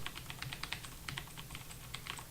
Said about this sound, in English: So this is my epic new Razer Black Widow.